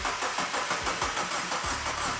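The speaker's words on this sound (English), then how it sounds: "it was time to see if this sad old project car would finally start" A sad old project car's engine cranks over and over, a rapid rhythmic churning of the starter that keeps failing to catch, heard close and on its own.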